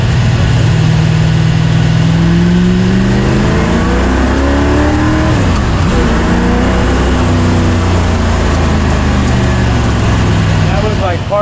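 A quick, powerful vehicle accelerates at partial throttle, its loud engine note rising steadily and sweeping through several gear pitches, with a person talking over it.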